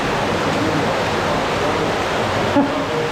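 Water from a brook rushes through a culvert on a section of the Wince Brook. The roar is steady and broadband, continuous and fairly close, with no clear voices over it.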